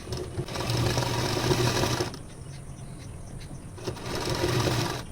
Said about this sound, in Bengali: একদম ধার বরাবর এমনভাবে সেলাই দেব যাতে সুতোর উপরে সেলাইটা কিন্তু না পড়ে